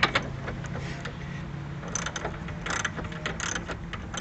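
Ratchet wrench loosening rear suspension bolts on a C4 Corvette, giving a continuous run of fast metallic clicking in uneven bursts, close up and without speech.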